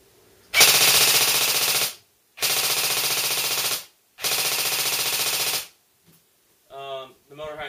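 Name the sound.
airsoft RPK gun firing full auto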